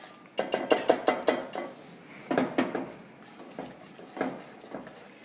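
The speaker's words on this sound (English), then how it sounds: "We're going to whisk it in." Whisking pan gravy in a pot for Thanksgiving: a quick run of about seven bright metallic clinks against the pot, then a few scattered scraping strokes and taps, close and loud, no talking.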